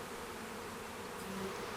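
A honey bee swarm flies in a dense cloud, a steady, even buzzing hum from many bees that fills the air without pause, with no talk.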